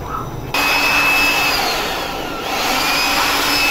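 A vacuum cleaner sucking dust out of a rusty desktop computer system unit during repair starts abruptly after a brief quiet moment, then runs as a loud, steady close-up whine with a slight dip midway.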